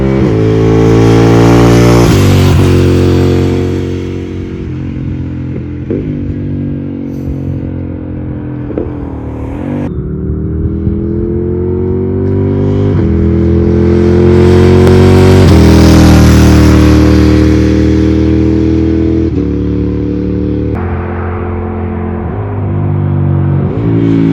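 A Ducati Monster 696 motorcycle engine with a quickshifter revs loudly and repeatedly, pitch climbing through quick gear shifts with brief cuts between each, riding close by.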